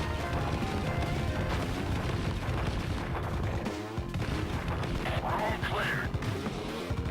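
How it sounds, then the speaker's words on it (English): A grenade launcher fires repeatedly in the Mega Drive shooter Xeno Crisis, a dense, continuous barrage of crashing blasts and booms that stays loud throughout. "Grenade launcher kicks ass."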